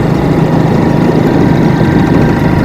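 A motorcycle engine running steadily, a loud, continuous low rumble with even vibration throughout and no voices.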